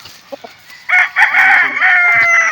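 A rooster crows loudly and close by, one long drawn-out cock-a-doodle-doo after a couple of brief soft clucks.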